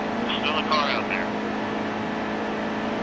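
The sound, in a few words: race truck engines at Daytona in NASCAR Heat 2 video game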